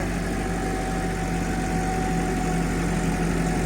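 A tractor engine running with a super seeder attached, a steady, loud, unbroken diesel drone with a low hum throughout.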